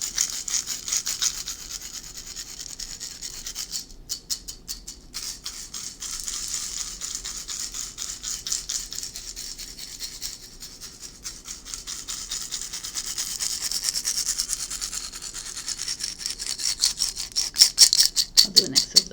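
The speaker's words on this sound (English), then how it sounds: "I'm just gonna do some little rattling because all around your body." A handheld rattle shaken around a person in a quiet tarot reading session, a soft steady shaking texture running throughout, growing louder and closer near the end.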